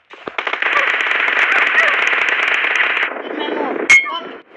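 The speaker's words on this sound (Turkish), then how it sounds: "Ben havaya sıkıyorum." Gunfire sprayed into the air in the PUBG video game forms a rapid, continuous burst for several seconds, then tails off into scattered shots. The sound is loud and close, with voices audible alongside it.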